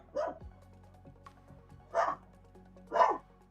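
A small in-game puppy from Honkai Star Rail barks three times in short, spaced yips, clear and close, with faint background music beneath and no talking.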